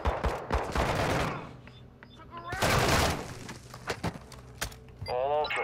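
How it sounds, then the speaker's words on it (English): Rapid automatic gunfire and explosive bursts from Call of Duty: Modern Warfare II in a parking garage, loud and close in dense volleys, with game voices and radio chatter mixed in. "I'm taking fire!"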